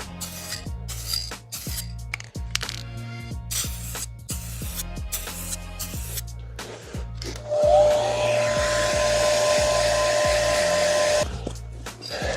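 Car parts for an R34 Skyline spray-painted gloss red: a spray gun hisses in a steady close burst for several seconds, with earlier rubbing and handling noises and rhythmic knocks underneath, no talk.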